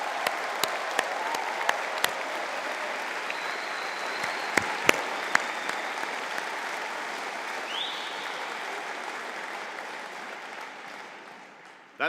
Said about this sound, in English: maybe we could just give one more round of applause to the class of 2025